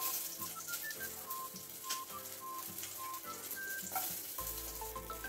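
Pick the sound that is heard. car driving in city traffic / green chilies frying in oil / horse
green chilies frying in oil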